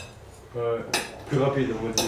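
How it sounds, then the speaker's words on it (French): Plates and cutlery clink and clatter as dishes are washed by hand at a sink, with a few sharp knocks close by while someone speaks French over the noise. "je l'ai aidé vu qu'elle fait la vaisselle"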